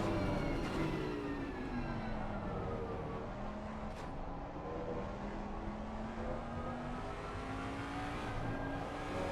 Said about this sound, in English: He did drop the throttle a bit there. He did lift off a bit